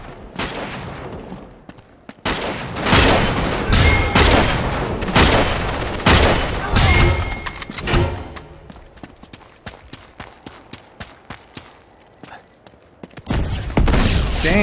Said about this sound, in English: Damn, that was a loud explosion.